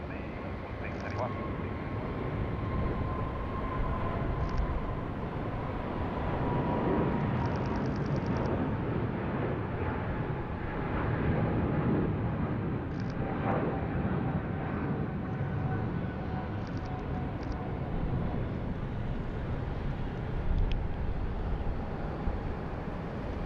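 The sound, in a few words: airliner landing on runway 34 left, Sydney Airport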